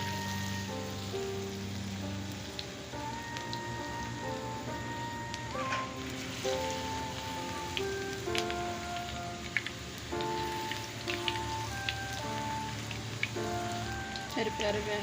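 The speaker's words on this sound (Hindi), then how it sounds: "ऑयल गर्म हो गया है, अब इनको मैं फ्राई कर रही हूँ।" Potato pakoras fry in hot oil with a steady, even sizzle that sounds like light rain and runs the whole time, under faint tonal background music.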